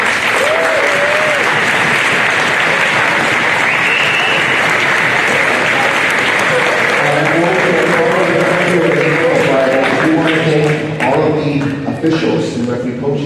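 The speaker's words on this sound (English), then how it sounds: "So all the athletes, let's give your coaches a round of applause." Sustained applause from athletes for their coaches at a national youth basketball championship in an indoor gym, a dense clapping wash that continues while a voice begins speaking over it.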